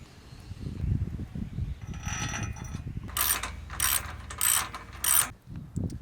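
A ratchet tightening thread-locked bolts on a van's bed and garage platform, with rapid close clicking bursts in several short strokes and brief pauses between them.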